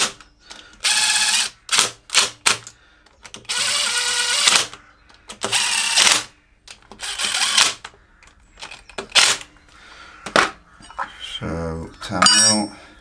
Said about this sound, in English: I've just got to tighten some bolts up now, so I'll just run them in with my impact.